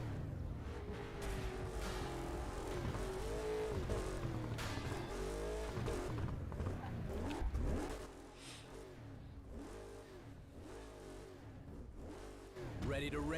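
Race car engine in the video game Burnout Paradise Remastered, revving and accelerating with shifting pitch and occasional tire squeal, loud and busy, easing somewhat in the latter part, mixed with game audio.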